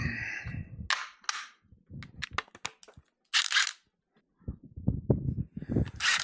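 A 12 mm socket wrench works on the bolts of a Kubota L3301 tractor, giving close, sharp metallic clicks and ratcheting bursts in irregular clusters with short pauses between them.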